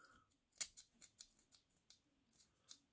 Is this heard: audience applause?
no